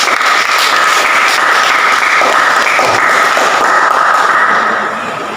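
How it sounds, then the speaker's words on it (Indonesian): Sustained applause from a group in a classroom at the close of a teaching session, steady and dense for about five seconds before tapering off near the end. "Tepuk tangan untuk kita semua."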